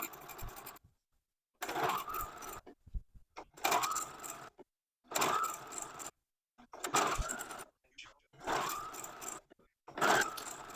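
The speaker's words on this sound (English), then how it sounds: "So I'm going to start stitching at this end" A home sewing machine stitches fabric strips together for a quilt's piano key border, running in about six even bursts of whirring with short silent gaps between, close and clear with no talking.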